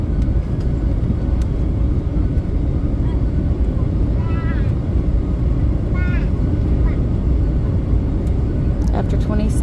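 Steady, loud broadband cabin roar inside a passenger airplane descending toward Hanoi, a constant engine and airflow drone with faint brief clicks and rattles, no talk.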